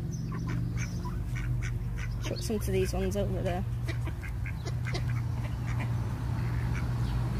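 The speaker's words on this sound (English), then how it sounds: "They look different to our canal ducks, don't they?" Ducks quack at a canal, a short burst of clear quacks in the middle over steady outdoor background, with people talking nearby before and after.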